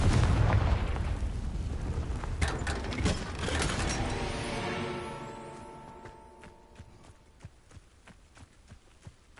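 A Confringo explosive spell blasts in a video game with a loud, booming burst followed by rumbling debris and sharp cracks, then a long fading tail scattered with lighter clattering impacts.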